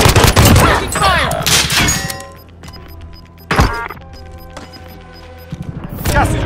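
Call of Duty: Modern Warfare gunfire erupts in loud bursts of shots and impacts mixed with game effects, dropping to quieter stretches before more shots, with a voice calling out over the action.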